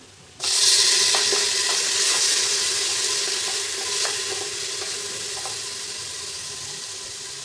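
Onion and tomato hit hot oil in a pan while sambar is being made for idli, bursting into a loud sizzle that stays steady and slowly eases, with faint clinks of stirring.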